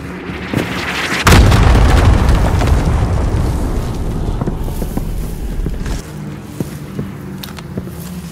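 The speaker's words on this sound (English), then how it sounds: "bombing run" A video game bombing run: a heavy explosion booms in abruptly, followed by a long rumbling decay and scattered smaller blasts and pops, loud and close.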